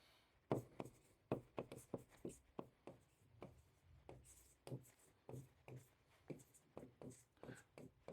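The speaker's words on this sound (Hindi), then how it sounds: "तो मैं लिख भी देता हूं" Writing on a board during an English lesson, a rapid series of sharp marker or chalk taps and strokes in an irregular rhythm, faint and close, with a voice talking at points.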